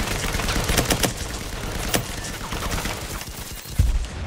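Gunfire in the Firewall Zero Hour video game: rapid bursts of automatic shots crackling in quick succession, then scattered single reports and a heavier bang near the end, fairly loud.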